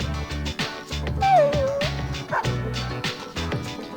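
Dogs bark and whimper in Persona 3 Portable, a game, with short yips and a whining cry over steady background music.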